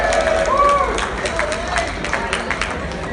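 Crowd applause and cheering at the Atlanta Expo, a steady wash of clapping and voices filling the room for the full stretch, with a whistle-like tone rising briefly early on.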